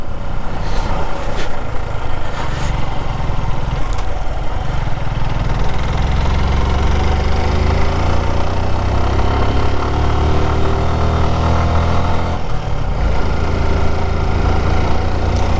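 Motorcycle engines of a group of arriving bikers on an off-road track near Keretonnuru, Mandya, rumbling and idling continuously close by, steady and loud for the whole stretch without a break.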